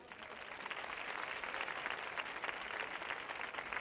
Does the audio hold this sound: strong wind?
no